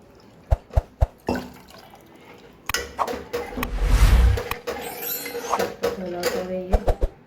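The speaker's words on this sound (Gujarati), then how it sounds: "સાથે સાથે પાણી પણ એડ કરીએ." Water is poured into a gram flour paste in a pot for kadhi, a brief rushing pour among clinks, taps and stirring knocks, with faint voices underneath.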